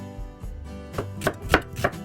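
A knife thinly slices onion on a cutting board, a few crisp cuts coming quicker toward the end, close up over faint music.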